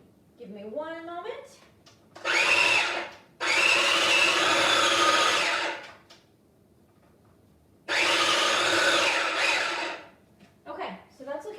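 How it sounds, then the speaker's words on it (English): A little mini food processor whirs loudly as it blends peanut butter in two long bursts. A voice talks in the gaps before and after. "my peanut butter in the little mini food processor, and we're gonna smoosh that up"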